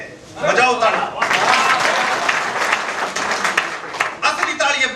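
An audience at a Hindi comedy poetry gathering (kavi sammelan) breaks into loud, sustained applause that swells and holds for several seconds, with a voice speaking over the clapping near the start and again at the end.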